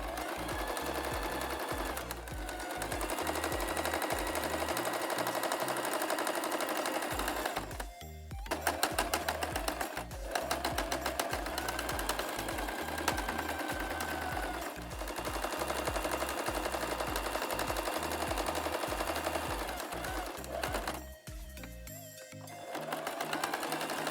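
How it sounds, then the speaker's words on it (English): A sewing machine stitches along the edge of fabric in long steady runs of rapid, even mechanical chatter, stopping briefly twice before starting up again, loud and close with no talking. "When you've come to the end of the one side, you can just sew along the edge as well."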